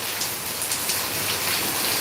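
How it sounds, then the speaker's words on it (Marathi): Heavy rain pours down steadily in Degloor, a dense continuous hiss of drops drumming on surfaces, with no voices. "खूप मोठा पाऊस सुरू आहे"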